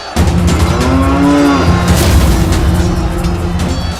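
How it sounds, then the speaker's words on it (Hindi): Cattle being driven along in a Mahabharat drama scene, with loud, drawn-out moos rising over a dense, rumbling herd background that continues steadily throughout. "ये तो मवेशियों को ले आ रहे हैं।"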